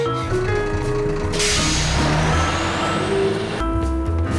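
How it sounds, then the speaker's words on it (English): Cartoon garbage truck arriving, a heavy engine rumble with a loud hiss of air brakes in the middle and tonal beeps at start and end, all at close range with no talk. "Well, the garbage truck came."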